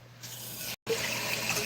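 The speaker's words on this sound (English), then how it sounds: "Gotta fill up the doggy's water." Tap water runs steadily into a dog's water bowl, a continuous hiss and trickle broken by one brief pause, close and fairly quiet with no talking over it.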